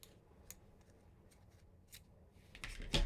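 Scissors cut crochet yarn at close range, giving a few faint, sparse snips and ticks over a quiet background, with a louder handling rustle at the end.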